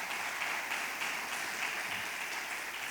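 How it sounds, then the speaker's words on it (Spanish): Church congregation at a Sunday teaching service claps in a steady, even wash of applause, moderately distant and unbroken by talk. "Dele palmas al Rey de Reyes"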